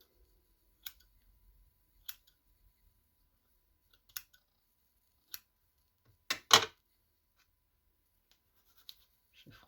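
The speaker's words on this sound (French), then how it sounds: "Je vais découper un petit peu de gaz." Scissors cut gauze for a handmade pink Christmas card, giving a few faint, sparse snips spaced a second or two apart, then a louder double snip near the end, in a quiet room.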